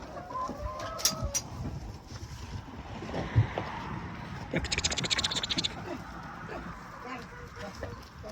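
Laying hens on a village farm, clucking and squawking at close range in irregular bursts, with scratching and other yard noise in the background.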